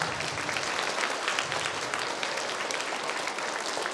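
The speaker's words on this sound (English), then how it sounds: "How about another round of applause for the beginner band students?" Audience applauding beginner band students at the Cedar Creek School concert, a dense, steady wash of clapping from a sizable crowd that holds evenly for the full length without pause.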